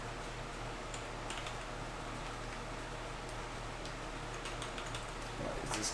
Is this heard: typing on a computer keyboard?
yes